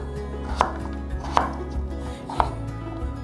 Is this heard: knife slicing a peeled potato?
yes